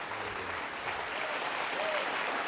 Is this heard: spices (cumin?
no